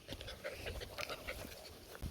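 Maremma sheepdog puppy panting in quick, steady breaths close by, with soft snuffles and faint whimper-like noises at a constant low level.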